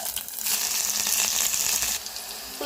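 Onion, green chilli and spices tempering in hot oil for a tamarind-tomato curry, a steady bright sizzle and crackle close up that swells after the first moment and eases slightly near the end, with no talking.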